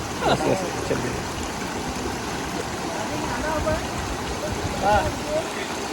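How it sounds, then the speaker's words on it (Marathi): A Himalayan mountain stream rushes on the Dodital–Darwa Pass trek. It makes a constant broadband wash of flowing water, with hikers' voices briefly and faintly over it. "बघा किती पाणी मस्त वाहते हो"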